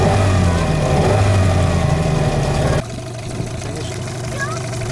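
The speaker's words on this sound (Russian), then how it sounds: "Сам мотор чуть-чуть вибрирует, но на румпель не передается ничего" Yamaha or Suzuki 9.9 outboard motor running on a boat, a loud, steady mid-pitched engine drone with a sudden drop in level partway through, continuing more quietly to the end.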